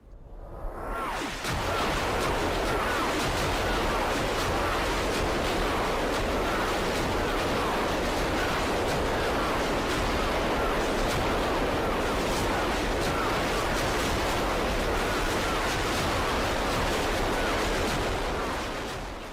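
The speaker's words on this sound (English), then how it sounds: "Let's listen to this simulation of what the barrage could have sounded like" Simulated World War I artillery barrage from the video game Battlefield 1, a dense, continuous roar of distant explosions blending into a rumbling wall of noise that swells in quickly and holds steady for nearly twenty seconds.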